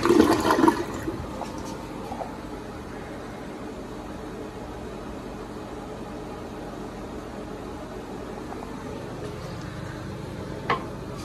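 A 2000s American Standard Cadet toilet flushes close by, a brief loud gush settling into a long, steady rush of water refilling, with a faint click near the end.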